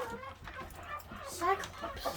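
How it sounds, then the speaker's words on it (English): Roosters squabble and chickens cluck in a backyard flock, with busy overlapping calls of varied pitch rising to a louder burst midway, close by and continuous. "So, roosters are fighting."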